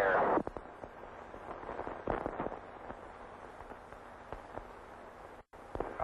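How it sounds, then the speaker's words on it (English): Retro rockets firing on a Mercury spacecraft (Faith 7) come through as a sharp burst at the start, then a series of crackling pops and thumps over a steady radio hiss, heard from inside over the air-to-ground link. "Astronaut Cooper had fired the retro rockets"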